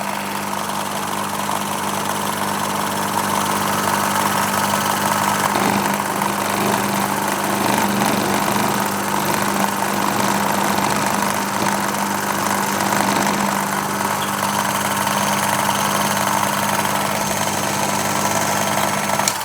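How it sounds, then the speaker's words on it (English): A machine runs slowly while a large drill bit spot-drills a hole for a small model engine build, giving a steady, loud, unbroken mechanical hum with no talk. "I've also slowed the machine down considerably because we've got a much larger drill bit now"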